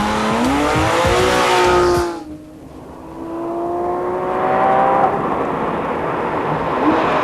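A Porsche 911 GT3 RS drives past loudly, its flat-six engine revving high before cutting off abruptly, then a quieter stretch of rolling noise as revs build again with another rising engine note.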